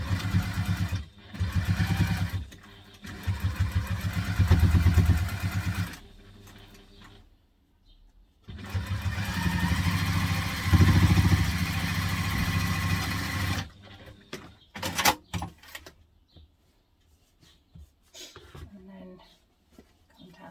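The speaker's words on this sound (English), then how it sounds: "I'm going to stitch along the bottom." A home sewing machine stitching along the bottom of a teddy backpack, running in two long steady whirring bursts separated by pauses, with handling noises and brief sounds afterward.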